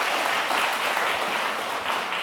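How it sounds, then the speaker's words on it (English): A conference audience in Riga applauds after a keynote speech, a dense, even roar of many clapping hands filling the hall continuously without pause. "Applause."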